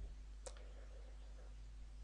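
A single sharp click, like a computer mouse button, stands out briefly against a low steady hum in an otherwise quiet room.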